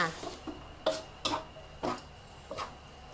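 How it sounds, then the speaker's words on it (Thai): Thai soy sauce stir-fried rice noodles with pork being tossed in a large wok with two spatulas, giving five or six distinct metallic scrapes and clanks spaced apart, quiet, with no talking. "ตะหลิวคู่จ้า ผัดค่ะ ทีนี้ก็ผัดให้แห้งเลยค่ะ"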